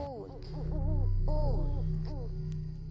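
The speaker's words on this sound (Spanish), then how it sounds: "notó que 2 búhos aullaban sin cesar en los árboles cercanos" Two owls hooting back and forth in nearby trees, their wavering, bending calls overlapping in repeated phrases against a steady low hum, fairly close and continuous throughout.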